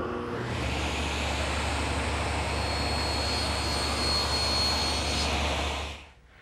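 Table saw cutting tenon shoulders on desk rails, a loud steady whine and rushing roar held for several seconds, then dropping away sharply as the cut ends.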